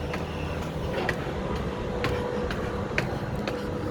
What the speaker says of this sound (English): So this is the train, my 424 train that I'm taking into Napoli from Pozzuoli.